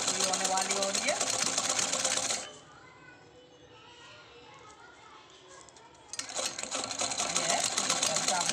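Sewing machine stitching lace onto a tikuji cover, a loud rapid needle chatter running near, stopping for a few seconds of quiet, then starting again, with a voice and faint household noise in the background.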